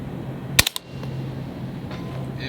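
A single sharp shot from an AR-style rifle set up for precision shooting cracks out near the start, followed by two quicker, fainter reports that may be the bullet striking a target; steady outdoor background hum fills the rest.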